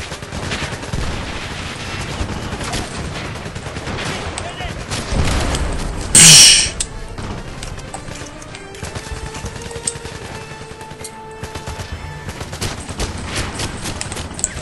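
Gunfire from the 007 Legends video game, Goldfinger Fort Knox level: steady automatic shooting and fusillades, with one loud blast midway, while a player talks over the action.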